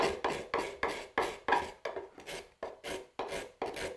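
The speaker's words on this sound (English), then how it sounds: "I could use a card scraper and get right in here" A hand card scraper is drawn across a curved wooden workpiece in a rhythmic series of about a dozen short, raspy scraping strokes, close and distinct with no talking.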